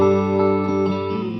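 A sustained electric guitar chord rings out with a short slapback echo and reverb tail, fading slightly over a second and a half.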